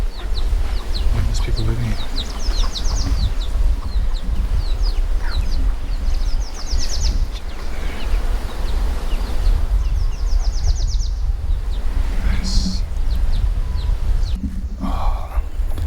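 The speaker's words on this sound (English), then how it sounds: "There's a chicken." Chickens cluck in a hillside village near Sapa, Vietnam, with short bursts of calls scattered through steady outdoor ambience while someone talks over them.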